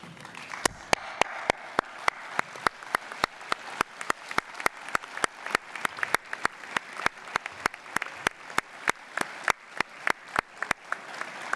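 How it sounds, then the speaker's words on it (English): Sparse, echoing applause at a university graduation ceremony, with distinct individual claps spread across the room, fairly quiet and steady throughout, with no voices over it. "give your academic colleagues and your family and friends a round of applause"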